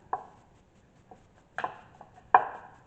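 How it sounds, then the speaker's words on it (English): A screwdriver pries at the plastic shell of a Ford F150 key fob, giving a few sharp, close clicks and snaps spaced irregularly, with quiet pauses between them. "You use a screwdriver or a butter knife and you carefully pry that up"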